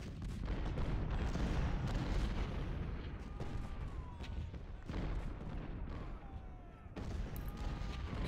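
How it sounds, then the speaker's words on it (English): Artillery in a Battle of Cold Harbor scene from the Civil War strategy game Ultimate General: Civil War rumbles on continuously, with dense overlapping booms and sharp blasts at a few points, loud and unbroken with no voices. "Let's just go stand in the open under artillery fire."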